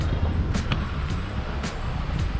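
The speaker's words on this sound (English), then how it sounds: "I hope you can hear me because of the wind" Gusty wind buffets the microphone outdoors at a car import yard, a loud low rumble with a few sharp bursts and faint traffic beneath.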